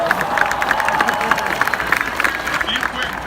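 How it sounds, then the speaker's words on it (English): A crowd at an Alabama national championship parade claps and cheers, a busy, somewhat distant mix of applause, shouts and background chatter, with voices talking through it. "They all deserve a great round of applause"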